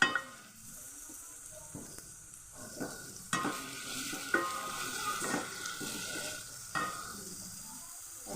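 Ginger and garlic paste frying with onions in a pan gives a soft, steady sizzle with irregular stirring scrapes and spoon taps, close but quiet, with brief louder bursts as the mixture is turned.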